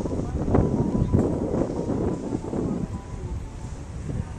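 Gusty wind buffeting the microphone by the Vieux-Port waterfront, a continuous low rumbling roar with soft swells, fairly loud and steady with no clear speech.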